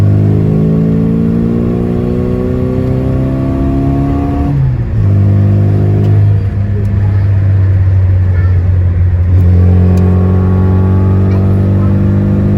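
A 1992 classic Mini Cooper 1380's small engine drones loudly from inside the cabin, rising in pitch through the gears with shifts and revs, accompanied by rattling road noise.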